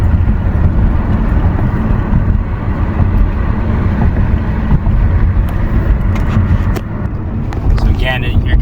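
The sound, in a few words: 2020 Chevrolet Malibu 1.5L engine driving with misfires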